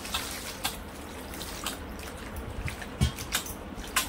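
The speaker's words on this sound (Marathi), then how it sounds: "आता यामध्ये ना पाणी घालायचंय" Water is poured over chopped jackfruit in a vessel to wash it, a soft continuous trickle with scattered splashes and drips nearby, no voices.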